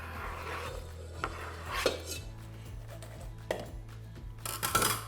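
Cut apple pieces dropped and scraped into a bowl in a kitchen, a series of soft clinks and rubbing scrapes against dish and utensil over a low steady hum, no speech.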